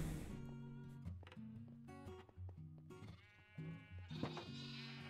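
Sheep bleat repeatedly in a blocky video game, a series of clear, close wavering bleats with short gaps between calls and no talking over them.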